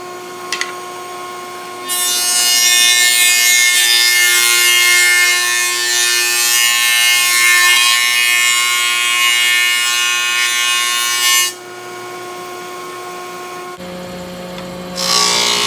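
An old Oliver thickness planer feeds wood boards through its cutterhead, a loud steady high-pitched roar lasting about ten seconds, with quieter machine hum before and after.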